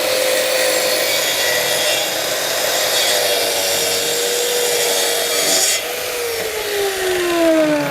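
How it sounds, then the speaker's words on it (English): A saw cuts through a 12 mm MDF board, giving a loud, steady broadband rasping roar that runs unbroken for several seconds and then shifts tone near the end as the cut finishes. "So this will be my first cut, and the MDF is 12 mil thick."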